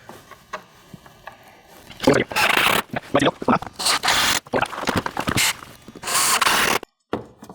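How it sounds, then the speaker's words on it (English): A screw gun drives screws through a fiber cement trim board at a siding corner. Close, loud mechanical whirring bursts repeat from about two seconds on, with short ratcheting and scraping pauses between them. "So we can go ahead and screw it into place."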